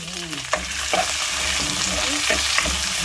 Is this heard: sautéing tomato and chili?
yes